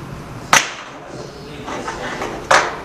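A sharp mechanical snap from releasing the clamp on a 3D vacuum sublimation heat press, two distinct clicks about two seconds apart, close and fairly loud over a quiet room hum.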